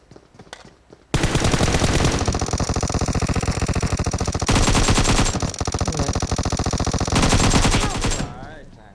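Sustained automatic gunfire in the mobile battle-royale game PUBG Mobile, loud and continuous for several seconds with a brief pause in between, preceded by faint talk.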